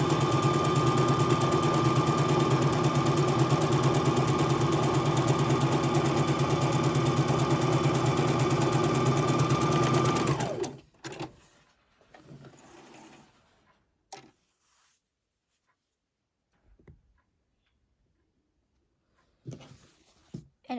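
A sewing machine stitches quilt fabric pieces together in one steady, loud, continuous whir lasting about ten seconds, then stops abruptly, leaving only faint handling clicks and rustles of the fabric.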